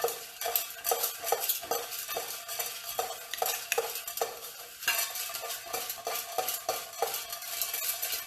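Alcohol ink blends are stirred up in a quick, steady rhythm, giving repeated light scraping and clicking strokes for several seconds at close range, fairly quiet and with no voices.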